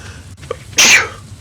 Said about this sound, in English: More sneeze.